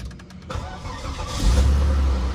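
A 2002 Volvo S80 2.9 being started: a brief cranking chatter, then the engine catches and settles into a loud, steady idle rumble close by.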